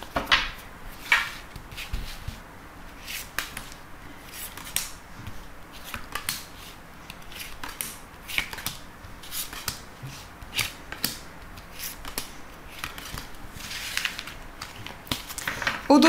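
Tarot cards are shuffled and drawn by hand, giving a string of soft, irregular flicks, snaps and riffling rustles close by, with no talking.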